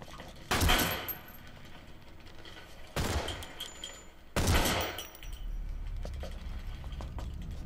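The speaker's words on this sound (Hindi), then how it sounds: "ऊपर से शूट कर रहे हैं फिर से" Gunfire from enemies firing down from above in Metal Gear Solid 5, coming in three loud bursts of rattling shots with metallic clinks and a steady background hum between them.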